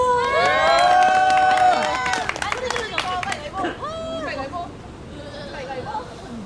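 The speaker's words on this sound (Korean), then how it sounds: "박수 많이 쳐주세요." At a K-pop dance cover performance, a crowd cheers and shouts loudly, with excited high voices whooping. The noise fades into scattered calls and chatter.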